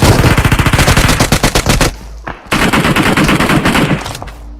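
Rapid automatic gunfire from a video game, loud and close, with dense bursts of shots, a brief pause near the middle, then another sustained volley.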